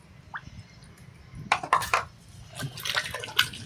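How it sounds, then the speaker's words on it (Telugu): Water pours onto mashed young tamarind leaves and tamarind in a bowl, a few brief splashing bursts and trickles after a quiet start, close and fairly soft. "చింత చిగురు మెదిగిన తర్వాత చింతపండు వేసుకొని దాంట్లో కొంచెం వాటర్ వేసుకోవాలి"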